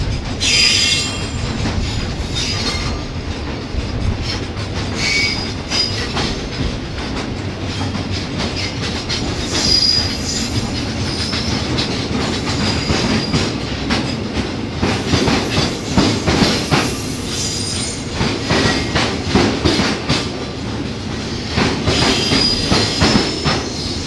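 A cement freight train shunting in a station rail yard in Thailand, with a steady rolling rumble, wheels squealing and clanking of wagons throughout, close and loud, with no talk.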